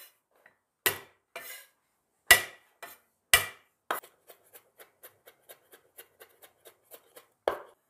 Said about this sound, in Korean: 곱게 채 썰게요.